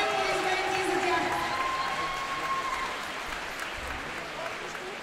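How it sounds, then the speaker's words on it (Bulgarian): Audience applauds a placing couple at a dance competition, steady dense clapping that fades slightly toward the end, with an announcer's voice over it. "Силни аплодисменти за тях."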